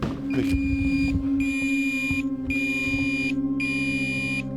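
A radiation detector near the crippled Fukushima Daiichi nuclear plant sounds in four long repeated bursts, loud, steady and piercing, with a constant low hum underneath.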